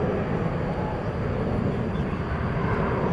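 A jet airliner on the Sacramento flight at DFW Airport at night gives a steady, moderately distant engine rumble that carries on unbroken for a few seconds.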